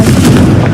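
Confringo blasting spell explosion in Hogwarts Legacy, a short, very loud booming blast filling the whole moment, with no talking.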